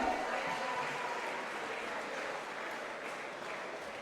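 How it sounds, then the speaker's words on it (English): Distant, faint crowd applause fills a combat sports venue for fighter Tony Silva after his bout with Tom Mullen, a steady wash of clapping without distinct individual claps. "please, a big round of applause for Tony Silva."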